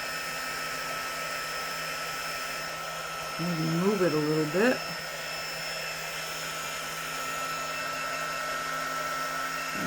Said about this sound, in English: let me get this heat gun on these other ones and see if I can get all of the air bubbles out